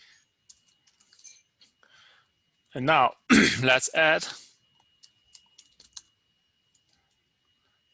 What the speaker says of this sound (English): Somehow I'm typing like crazy.